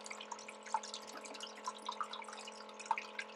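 Water washes sand through a Prospector Dream sluice during gold prospecting in Wisconsin, a quiet trickle with scattered drips and splashes over a faint steady hum.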